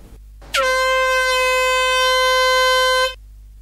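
An air horn blasts loud and close into a phone, one sustained steady honk lasting about two and a half seconds before cutting off.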